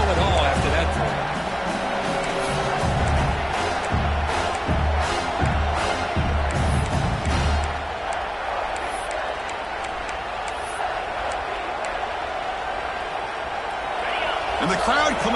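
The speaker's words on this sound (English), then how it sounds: "the crowd coming to life here" At an Ohio State football game, a big stadium crowd roars in a steady wash of cheering. The noise swells and ebbs under continuous play-by-play commentary.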